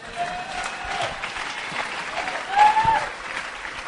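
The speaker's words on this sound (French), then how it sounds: "est-ce qu'on peut l'acclamer très fort?" A church congregation applauds loudly during a sermon, a dense wash of clapping that swells near the end, with faint voices mixed in.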